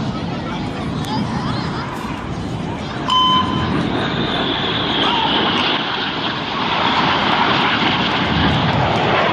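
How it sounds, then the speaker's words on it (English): Four jet aircraft close at high speed during an air display: a broad, continuous roar swells slightly partway through, heard at a distance beneath crowd babble and a public-address voice. "Now these 4 aircraft are closing at 850 miles an hour."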